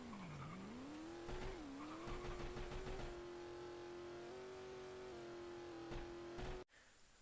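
A car drifting around an uphill hairpin in the video game Full Throttle, the engine droning steadily with pitch dips as it revs, with tire squeal and skidding noise throughout before it cuts off abruptly.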